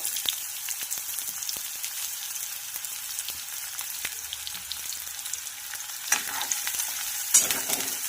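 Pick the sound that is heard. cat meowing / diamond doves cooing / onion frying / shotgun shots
onion frying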